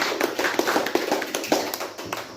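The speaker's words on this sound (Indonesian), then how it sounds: "Kita beri tepuk tangan untuk Diva." A classroom of students clapping for a classmate, brisk close hand claps in an uneven patter lasting a couple of seconds, fairly loud and with no voices.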